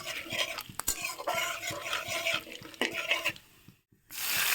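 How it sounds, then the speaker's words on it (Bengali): A spoon scrapes and clatters in a pan of frying spices with ginger, bay leaf and asafoetida, giving irregular close knocks over a soft sizzle that briefly drops to silence near the end. "এবার একটু ভালো করে মিক্স করে নেব"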